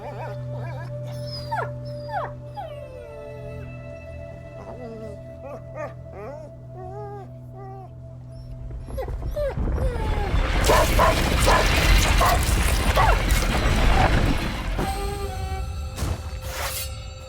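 A dog barking and whimpering in the video game A Plague Tale: Innocence, with short yips and whines over a steady drone. Loud, dense rustling and commotion take over midway and bury the calls, and a few whimpers return near the end.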